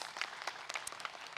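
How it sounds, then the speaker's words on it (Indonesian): An audience claps briefly at a talk show, quiet scattered applause with a few distinct sharp claps and no voices over it. "Ya Allah, tepuk tangan dulu yuk."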